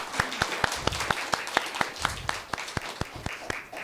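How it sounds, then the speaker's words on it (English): Audience at a Black Student Union poetry slam clapping and snapping, a steady run of sharp, separate snaps and claps that sound fairly close, with faint crowd murmur underneath. "Give them some claps and snaps."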